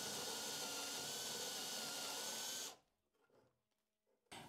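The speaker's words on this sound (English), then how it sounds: "Now with a 4 millimeter drill bit, I'm gonna drill a hole through the remaining part of the board." A power drill with a 4 mm bit bores through a wooden board in a loud, steady whine that stops abruptly partway through. Quiet handling clatter follows, then a short burst of sound starts again at the end.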